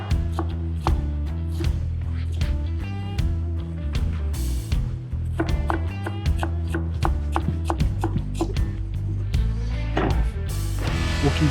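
A knife slices bell peppers into thin strips on a cutting board, a rapid, even run of sharp close chops that keeps going nonstop.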